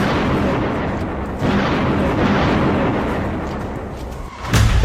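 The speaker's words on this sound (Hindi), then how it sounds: "बमबारी शुरू हो चुकी है।" Heavy artillery and bombing in southern Syria produce a continuous loud, low rumble of blasts, with a sharper burst near the end.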